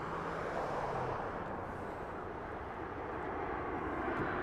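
An incoming airliner on approach at Las Vegas Harry Reid International Airport, its engines a steady, broad roar that holds at an even level throughout, with no voices over it.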